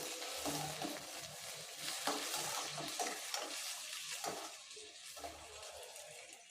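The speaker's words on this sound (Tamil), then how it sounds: "இதை நல்லா வதக்கி விட்டுறலாம்" Chopped onions sizzle and crackle in a hot pan with a spatula stirring and scraping at an irregular pace, close and steady, no voices.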